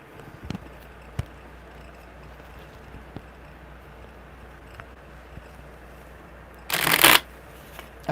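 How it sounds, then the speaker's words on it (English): Tarot cards shuffled at a live reading table make a brief, loud riffling burst near the end, after a long stretch of quiet room tone broken by a few soft taps and knocks. "Oh, that was a perfect shuffle."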